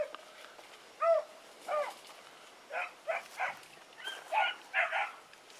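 A small dog gives a series of short, high-pitched barks and yips, spaced irregularly, fairly close and moderately loud with no one talking.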